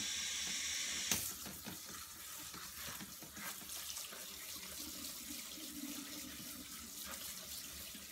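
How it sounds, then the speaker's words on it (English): Cool tap water runs steadily into a kitchen sink as food is rinsed, a continuous hissing splash with a brief louder clatter near the start, no talking over it. "Now I'm going to rinse them with some cool water."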